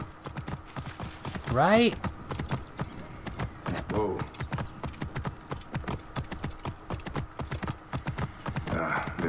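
A horse in Assassin's Creed Origins clip-clops along at a steady, even gait, with close, crisp hoofbeats continuing throughout and a horse whinny partway in, while someone speaks briefly over it.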